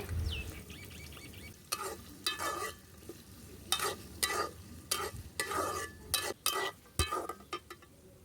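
Chopped onion frying in hot oil with cardamom, cinnamon and bay leaf for beef with jackfruit seeds, stirred in a pan with repeated close scraping strokes over a soft background sizzle.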